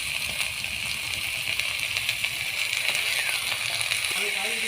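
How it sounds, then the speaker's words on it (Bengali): Kohlrabi pieces fry in a pan with a steady, dense hissing sizzle close by, faint clinks of a utensil near the end and no voices heard. "সবজিটা আমার ভালো করে ভাজা হয়ে গেছে"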